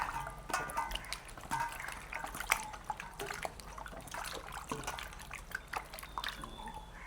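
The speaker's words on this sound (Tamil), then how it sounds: "இப்படியே நாங்கள் கழுவி எடுப்போம்." Water splashes and sloshes as potatoes are rubbed and turned in a basin, with irregular drips and knocks, fairly close and continuous.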